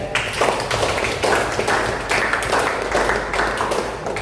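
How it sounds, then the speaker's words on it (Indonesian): An audience applauds Farel at a religious studies talk in Tulungagung, with steady, dense clapping that keeps going at an even level from start to finish. "beri tepuk tangan buat Farel"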